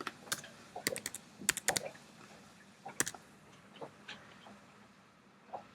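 Keystrokes on a computer keyboard entering a search term, a quick irregular burst of sharp clicks followed by a few sparser taps, close and fairly quiet, no talking.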